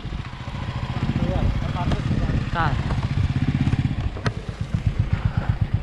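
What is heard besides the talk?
motorcycle engine running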